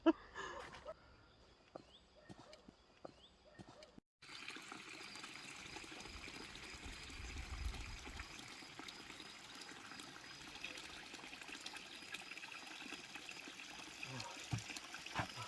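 Clean spring water trickles steadily beside a mountain hiking trail up Makovytsia near Yaremche, a soft continuous babble close by that starts after a few seconds of quiet outdoor ambience with faint sounds.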